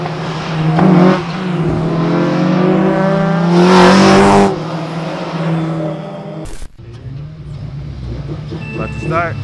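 Race cars at a track during the Honda Super Meet 2020, their engines droning and revving loudly and close by, with people talking over the engine noise.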